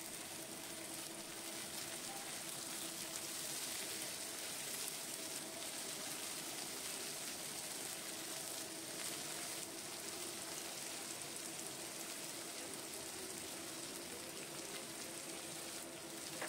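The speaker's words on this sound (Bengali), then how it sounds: "এবার আদা রসুন যেটা আমি ছেঁচে রেখেছিলাম হামানদিস্তাতে সেটা দিয়ে দিলাম, আর টমেটো কুচি দিলাম। এবার ভালো করে কষাতে হবে।" Crushed ginger and garlic with chopped tomato sautéing in a pan for a rohu fish roe dish, giving a steady, even sizzle and hiss that runs unbroken and fairly quiet, with no talking.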